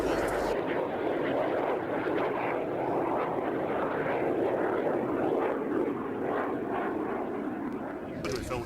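A Jet Provost flies at an airshow with a steady, loud engine roar that holds throughout. An announcer talks over the engine noise.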